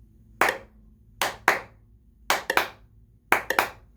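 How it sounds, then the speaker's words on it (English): Hands clap out a counted rhythm in spaced groups: a single clap, then two, then quick doublets and triplets, each crisp and close with silence between the groups. "So you're clapping on the number"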